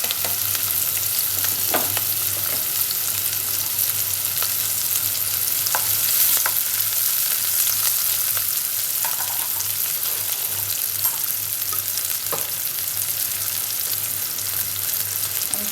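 Onions frying in a pan for a fish, potato and eggplant curry, a constant close sizzle with occasional stirring clicks and scrapes and a low steady hum beneath.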